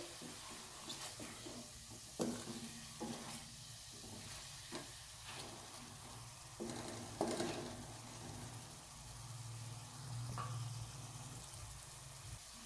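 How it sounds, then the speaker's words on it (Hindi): Chicken pieces sizzle and fry steadily in a pan while being stirred, with a continuous hiss broken by occasional scraping of the spatula, close and moderately loud. "चिकन के गलने तक हम इसकी भुनाई करेंगे।"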